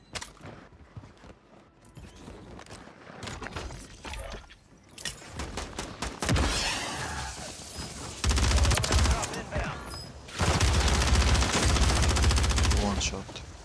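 Rapid, loud gunfire from a MORS sniper rifle loadout in the Warzone video game, with dense bursts of shots and heavy rounds that grow louder and more sustained toward the end.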